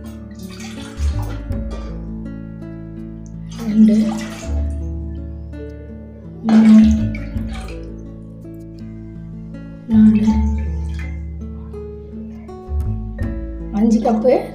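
Water poured from a cup into a cooking pot, several separate pours with splashing, each followed by a pause, while someone talks over them in Tamil.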